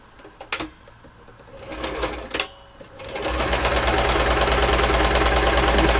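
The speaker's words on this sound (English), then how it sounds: "now we're just going to sew down this top piece" A sewing machine stitches down the top piece of a fabric Christmas triangle door stop, starting with a few short stuttering runs before settling into a steady, fast, continuous mechanical whir, close and loud.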